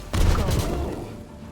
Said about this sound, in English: I'm going to use Magic Missile on this Babao.